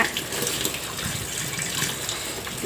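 Tap water runs while fresh chhena is rinsed for rasgulla, a steady splashing gush into a sink with small irregular spatters, heard alone without talk.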